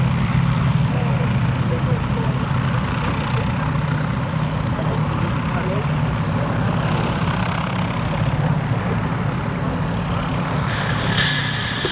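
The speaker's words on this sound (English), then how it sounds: "Now we're getting our aircraft for our next formation into the air with the Bristol Blenheim first off" Bristol Blenheim twin-engine aircraft taking off at a Battle of Britain airshow at Duxford, a steady loud propeller engine drone sustained throughout with crowd ambience and a commentator talking over it.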